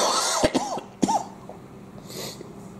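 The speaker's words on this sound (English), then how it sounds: "The cough is a lot better." A person recovering from illness gives a few sharp coughs and a throat clear, two distinct bursts close to the microphone followed by quieter breathy sounds.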